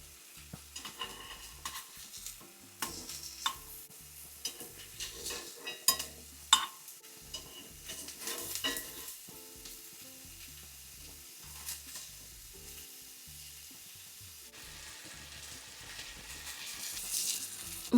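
Sausage patties frying in a skillet over medium heat, a quiet steady sizzle with scattered clinks and scrapes of a utensil against the pan, close and without any talking.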